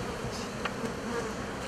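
Honeybees buzzing at an open beehive during inspection, a faint continuous drone of many insects with occasional nearer wingbeat swells, no speech.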